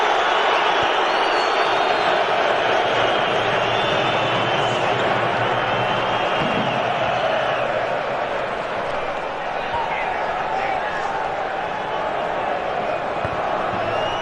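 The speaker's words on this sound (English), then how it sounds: "Crowd are getting restless now." A large football stadium crowd at a Euro 2008 England versus Croatia match murmurs and roars steadily as a distant, continuous wash, with a commentator talking over it.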